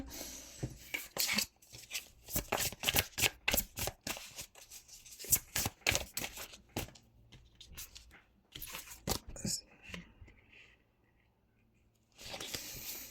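Tarot cards are shuffled by hand in quick, irregular bursts of soft riffling and slapping, close but fairly quiet, with short pauses between handfuls.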